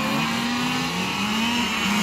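Renault Twingo race cars pass one after another on track during the 12 Heures Yankee endurance race at Saint-Affrique, engines revving loud and steady with rising and falling tones, no talk.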